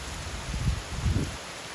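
Steady heavy hurricane rain hissing continuously, with low rumbling gusts swelling briefly twice in the middle, during Hurricane Melissa in St. Elizabeth, Jamaica.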